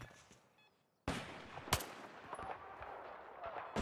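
A single sharp gunshot in Battlefield 4 cracks out after a brief quiet, followed by a steady bed of game noise and small clatters.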